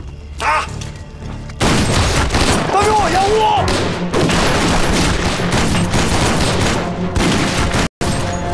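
A burst of gunfire crackles through a chaotic fight in a period railway drama, dense loud rapid shots and booms packed over several seconds, with shouting voices mixed into the din before a brief sudden cut.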